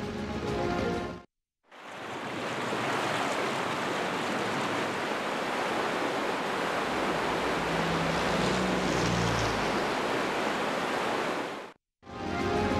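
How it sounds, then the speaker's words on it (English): River water flows in the Disney Planes video game, a broad, steady rushing wash like surf that holds unbroken for about ten seconds between two brief gaps of silence. "The river is flowing again"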